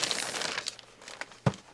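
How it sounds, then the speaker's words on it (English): Plastic bag crinkling near the microphone as a Mezco Halloween II Michael Myers action figure is unpacked, a few irregular rustles and crackles ending in one sharper crunch. "Comes in that plastic bag like all these Mezco figures do."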